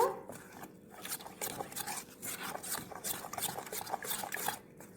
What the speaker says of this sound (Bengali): জল দিয়ে আমি সুজিটা একটু মেখে নেব